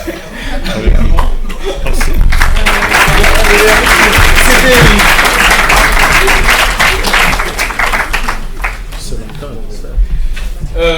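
A seated crowd at a talk on the African diaspora claps in a dense, sustained burst of applause mixed with chuckles, loud and near, while a voice speaks over it.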